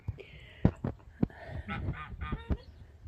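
Several geese honking nearby in irregular bursts, harsh nasal calls overlapping with a few sharp knocks and low background noise.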